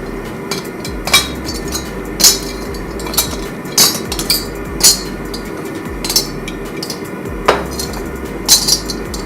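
Copper pieces chucked into a metal ladle, a series of sharp metallic clinks and clanks at irregular intervals over a low steady background hum.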